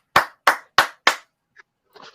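Four crisp, evenly spaced hand claps ring out close and clear, then fade into a couple of faint scattered taps, heard during a live online debate stream.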